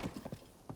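Quick, light clip-clop of a horse's hooves trotting in a video game, a rapid rhythmic patter of several beats.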